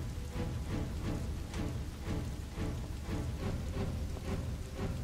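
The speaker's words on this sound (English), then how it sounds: "it's raining." Steady rain hisses down in the video game Dynasty Warriors 8 during a battle at Fan Castle, a constant, even wash of noise with no voices over it.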